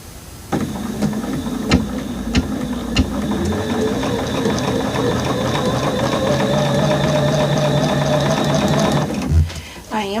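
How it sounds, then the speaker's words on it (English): A sewing machine stitches a quarter-inch seam on a quilt block, a steady close mechanical whir with rapid needle rhythm running nearly ten seconds, with a few clicks at the start and a stop at the end. "So we're sewing this on 1/4 of an inch,"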